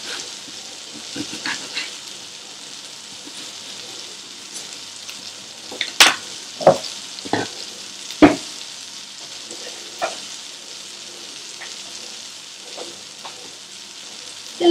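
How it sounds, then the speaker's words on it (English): Garlic and green chilies fry in a pan for a prawn chilli fry, a quiet continuous sizzle under a few sharp clacks and scrapes of the spoon tossing them, close by, with no talk. "It's important that you fry the garlic because we need that taste of the roasted garlic."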